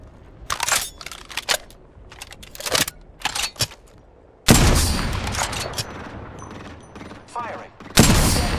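Gunfire in Apex Legends: sharp mechanical clicks and short shots under game voice callouts, then a sustained, loud burst of weapon fire lasting several seconds and a final blast starting up near the end.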